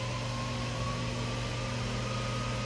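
The head of a Sharp LMV-42 vertical milling machine spins at 1000 RPM, giving a steady, even motor hum with a constant whine. It runs continuously and alone, with no talk over it.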